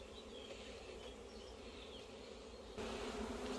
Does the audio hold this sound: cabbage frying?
no